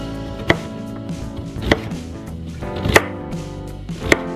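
A knife cubing sweet potato on a cutting board in four sharp, evenly spaced thuds, close up, with no talking.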